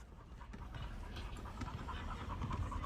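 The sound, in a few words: dog panting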